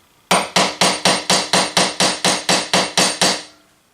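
Hammer tapping a revolver front sight post clamped tight in a vise, Pietta Spiller and Burr: twelve evenly spaced, sharp metallic knocks, close and loud, ringing briefly before the next blow, then fading out.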